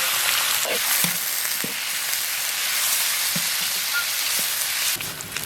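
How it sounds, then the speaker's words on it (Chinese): Pork sizzling and frying in lard in a wok with scallion, ginger and dried chili, a steady loud crackle with a few light stirring knocks. "锅里来一块猪油，油后下入葱姜干辣椒。"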